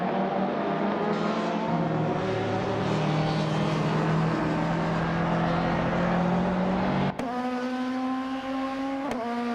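Race cars in a racing video game give off a continuous loud engine drone with steady harmonic tones. The pitch shifts as the cars change gears near the end, and tires squeal briefly.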